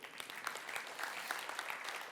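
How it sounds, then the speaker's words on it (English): An audience at a business seminar applauds, a steady, fairly distant wash of many hands clapping at once, moderately faint and continuous without talk. "Let's give him a big round of applause."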